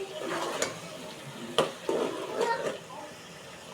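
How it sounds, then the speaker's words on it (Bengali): Pointed gourd curry stirred in a covered pot, giving a few soft scraping sweeps and clinks over a low simmering sizzle, close and moderate in level, with faint voice-like sounds in the background. "নাড়া দিয়ে নিচ্ছি যাতে পটলগুলো পাত্রে না লেগে যায়।"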